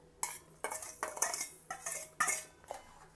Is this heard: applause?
no